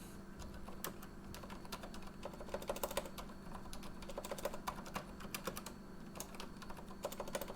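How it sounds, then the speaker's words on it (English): Fingers type on a computer keyboard in quick irregular bursts of soft clicks while code is entered, close but faint, with no voice over it. "I really suck at typing the word triangle."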